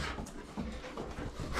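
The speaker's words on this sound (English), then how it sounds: "Let the dog out." A dog pants and whimpers softly, close to the microphone, in a steady low-level stretch with a slightly louder moment at the very end, early in the morning before a mountain hike in Colorado.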